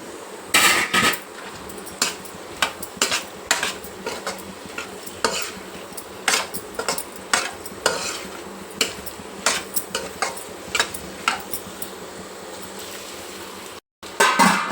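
Cut capsicum is tipped into a pan of sizzling curry leaves and spices for a capsicum masala and stirred, bringing steady clinks and scrapes of a spoon against the pan over a low frying hiss, with no voice.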